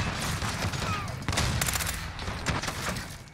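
An incendiary fire shotgun blasts repeatedly during a Domination match in Call of Duty: Modern Warfare, several loud close booming shots with crackling bursts over busy gunfire.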